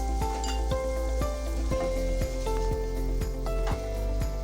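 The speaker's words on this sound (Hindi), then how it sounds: "तेज आंच पर इसको थोड़ा भूनते जाइए" Minced keema mixed with yogurt fries on a high flame for a green chili keema, giving a steady close sizzle broken by regular spoon clinks and scrapes against the pan.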